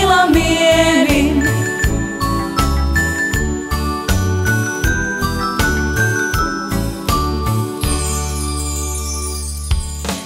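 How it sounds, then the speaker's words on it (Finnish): Bright bells jingle and ding in a steady rhythmic pattern, loud and close, within a Finnish Christmas elf song with a musical backing. "La la la la la, heli kellot soi"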